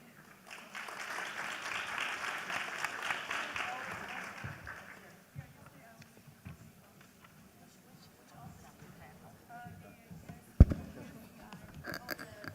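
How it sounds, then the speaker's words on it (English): Audience applause for speakers at the Taiwan US Investment Conference, a dense patter of many hands clapping for several seconds before fading into quiet room noise and murmuring voices. "let's give the speakers a round of applause again"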